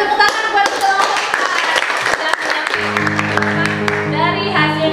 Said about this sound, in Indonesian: Ya, terima kasih tepuk tangan buat kelompok